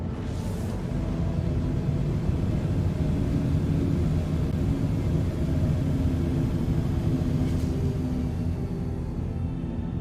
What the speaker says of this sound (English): Full impulse. Afterburners engaged.